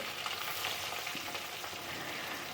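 Fresh fish frying in hot mustard oil in a pan, a steady close sizzle with soft crackling that holds evenly throughout, with no talking.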